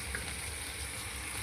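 Spice paste of ginger, garlic, onion and green chilli with turmeric fries in a pan, a soft continuous sizzle with light stirring, brief and steady with no talk.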